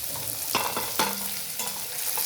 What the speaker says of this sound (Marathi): अशा शेवग्याच्या शेंगा त्यामध्ये टाकून